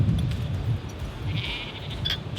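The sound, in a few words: sheep bleating in a field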